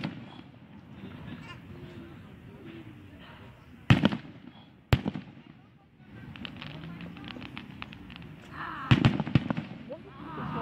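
Fireworks burst outdoors in several loud, sharp bangs spaced seconds apart, with crackling tails, over a background of distant crowd murmur and people talking.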